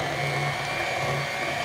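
An electric mixer whirs steadily through chocolate cheesecake batter, a continuous close motor hum with a faint grinding texture and no pauses over the short stretch.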